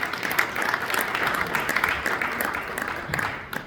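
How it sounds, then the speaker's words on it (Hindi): An audience at a stage drama performance claps for the musician who played from backstage, a sustained wash of applause that holds at an even level throughout. "मैगलिन फाया के लिए एक बार जोरदार ताली बजाई जाए।"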